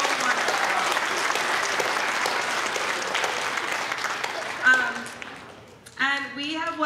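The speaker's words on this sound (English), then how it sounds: "can you give them one more round of applause for their semester of hard work?" Audience applause for a middle school choir at a concert, a sustained crowd of clapping for nearly five seconds that fades as a voice begins speaking near the end.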